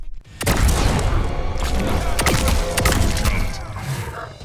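In the Mortal Kombat video game, the Predator's plasma caster fires energy bolts as a loud, booming electronic blast with crackling, mechanical tails and several sharp hits over a few seconds, heard alone with no voices.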